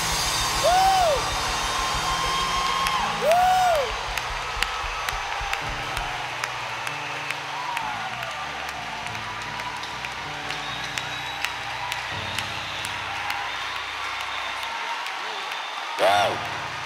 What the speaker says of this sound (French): Put your hands together for Jesus